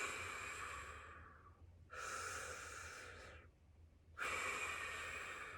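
Deep breathwork breaths drawn in and pushed out through the mouth during a heart chakra breathing class, three long airy breaths in steady succession, close and fairly loud, with no talking.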